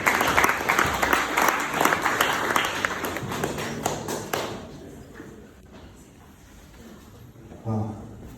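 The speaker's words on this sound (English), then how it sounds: "Give yourself a round of applause." An audience gives a round of applause, a dense burst of many hands clapping that trails off after about four seconds into quiet room tone, with a brief voice near the end.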